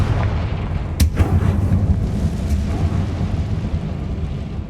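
A Confringo fire spell blast in the video game Hogwarts Legacy, a sharp explosive burst near the one-second mark with a second crack just after, over steady rumbling in-game ambience.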